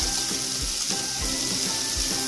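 Chopped onion fries in a pan for kodo millet upma, a steady close sizzle broken by a few soft scraping strokes in a regular rhythm.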